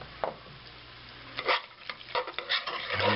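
Chilidog mac ingredients get stirred in a pot, with scraping and soft wet clatter of a utensil in irregular bursts, fairly quiet and close, no talking.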